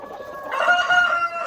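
Australorp chickens and newly hatched chicks call close by, with a clear, sustained cluck and cheep rising over a quiet background.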